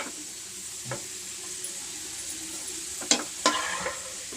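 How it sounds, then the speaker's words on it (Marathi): Onions sizzle as they fry in a pan for veg biryani. A soft, steady hiss runs under sharp scraping clinks of a spoon stirring against the pan near the end. "तर इथे आपला कांदा फ्राय झाला आहे"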